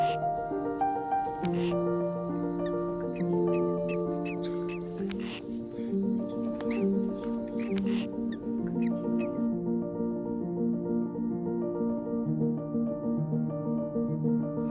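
Newly hatched Mexican trogon chicks chirp and squeak inside a nest in a tree trunk in cloud forest, a busy, overlapping chorus of thin high calls, close by and continuous, with occasional clicks and knocks.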